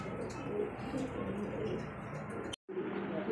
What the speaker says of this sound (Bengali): দেখতে পাচ্ছেন আরো এক পেয়ার কবুতর